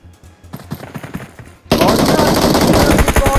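P90 submachine gun fire in PUBG Mobile, a loud sustained automatic burst that erupts suddenly after quieter in-game sounds and continues rapidly to the end.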